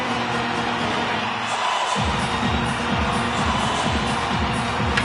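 An arena crowd in the NHL 26 ice hockey video game cheers and roars steadily through a tied Toronto Maple Leafs at Anaheim Ducks game, with rhythmic clapping or stick-like thumps pulsing underneath the broad crowd noise.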